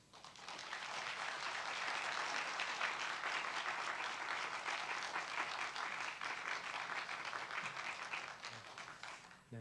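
Sustained applause from a church congregation in Dallas welcoming a visiting pastor before his sermon at a revival meeting, steady and full for nearly ten seconds with no talk over it.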